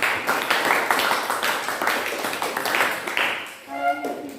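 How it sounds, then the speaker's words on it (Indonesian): A classroom group claps together in a dense, steady burst of applause close by, fading out after about three seconds as a voice begins speaking. "Berikan tepuk tangan."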